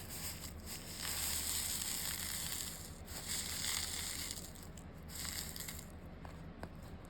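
Crushed glass being spread across a resin butterfly wall art mirror, giving a steady, faint gritty crunching and scraping that carries on throughout with no talking.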